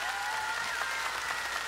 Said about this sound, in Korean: 다음 출연자에게 또 박수 보내주시기 바랍니다.